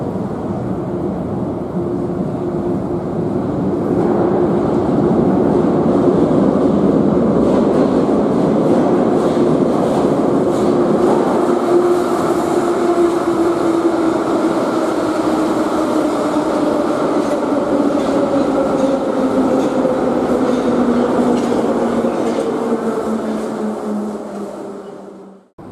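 A Moscow metro train rumbles steadily through a tunnel, its drone rising in pitch then slowly falling as it runs, loud and continuous with faint rail clatter.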